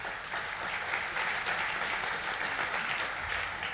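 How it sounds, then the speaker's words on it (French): Sustained applause from a congress audience greeting an official at a national professional conference, dense continuous clapping at moderate distance with no one speaking over it. "Merci de les applaudir."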